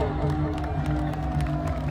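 A crowd clapping in quick, irregular bursts amid a dense wash of cheering and chatter, with voices talking loudly throughout.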